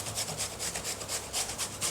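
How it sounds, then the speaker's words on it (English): Courgette being rubbed down a fine grater for a cake, a steady run of close, even rasping strokes repeating about every quarter second, with nothing else heard. "aiming to get 200 grams of grated courgette. And I'm using a fairly fine grate for this."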